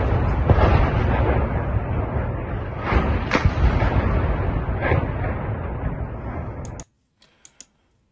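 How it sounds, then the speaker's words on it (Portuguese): Bombing of a church: a loud, dense roar of blast noise runs for about seven seconds with a few sharper bursts, then cuts off abruptly to near silence with a couple of faint clicks. "Esse aqui foi um bombardeio de uma igreja, né?"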